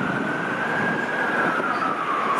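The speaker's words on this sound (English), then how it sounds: "I hear sirens." A wailing emergency vehicle siren sounds continuously over a dense rumble of city street traffic in Baltimore, its pitch slowly sliding down.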